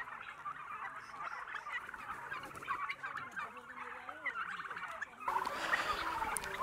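Turkeys on a commercial turkey farm in Nepal gobble in a constant, overlapping chorus of throaty calls at moderate distance, with other fowl noise mixed in and growing denser toward the end.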